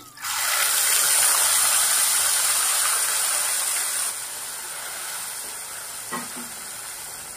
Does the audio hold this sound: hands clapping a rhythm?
no